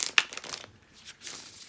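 Oracle cards are shuffled in the hands at close range, a few soft papery crinkling riffles, quiet and brief with a short pause between.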